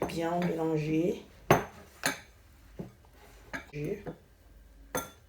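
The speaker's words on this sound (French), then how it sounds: "On va bien mélanger." Galette batter being mixed in a bowl: a few clinking strikes of utensil against the bowl and brief scraping, with a voice talking at the start and again midway, fairly quiet and close.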